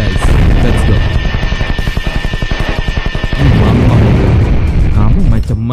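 Rapid, loud bursts of automatic gunfire rattle in a fast rhythm, followed by heavier booming blasts, with a voice talking over the action.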